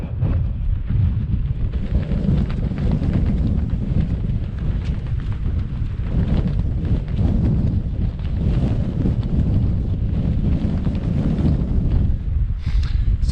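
Strong wind on an exposed hillside in the Yorkshire Dales, a loud continuous buffeting roar over the microphone with low rumbling gusts throughout.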